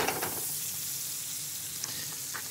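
Steady sizzling of morels frying in butter in a saucepan, a constant crackling hiss with occasional small pops, close and unaccompanied by talk.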